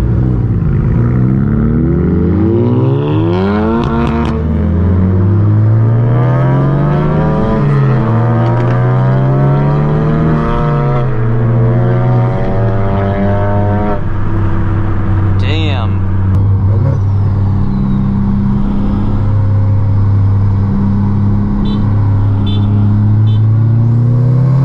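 A tuned car with a 5-inch catted downpipe exhaust revs hard and accelerates, its engine note rising and falling in loud sweeping waves before settling into a steady drone as it decelerates.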